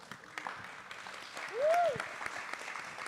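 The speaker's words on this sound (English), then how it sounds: "Round of applause." Audience applause at a panel event on Arctic land defenders and artists: soft, steady clapping from a crowd with a brief voice rising over it midway.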